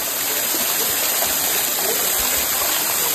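Cold waterfall stream at El Meco in San Luis Potosí, a loud, constant rushing roar of falling water heard close by with no pauses.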